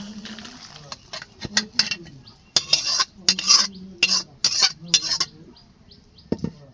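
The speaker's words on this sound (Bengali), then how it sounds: "এখন আমি এই যে মাছটা আমি বলে ঢেলে নেব" Home-cooked fried fish is tipped from a kadai into a bowl with a metal utensil, making a series of close, sharp clinks and scrapes in irregular bursts, separated by short pauses.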